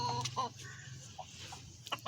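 Chickens cluck and murmur nearby in short bursts, a few soft calls scattered across a quiet barnyard background.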